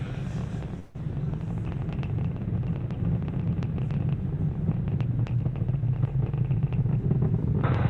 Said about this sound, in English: So now the engines are throttling up.